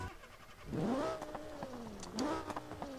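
A car engine in the game BeamNG.drive revs up twice, rising in pitch with a synthetic, game-like tone, loud and close with no talking.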